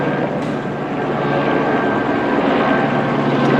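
A Los Angeles Police Department helicopter flies overhead with a loud, steady rotor drone and a thin engine whine that holds throughout.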